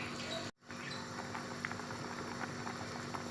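Steady bubbling and soft popping of lentil soup on the boil in a pot, continuous and fairly close, with a brief dropout near the start.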